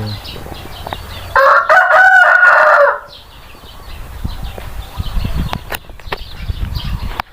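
One loud, close rooster crow lasting over a second, then quieter rustling and faint farmyard noise afterward.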